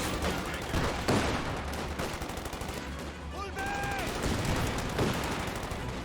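Gunfire and explosive bursts from a battle in Company of Heroes 2, dense and continuous with repeated sharp shots and thumps, loud and mixed together, with a voice talking faintly underneath.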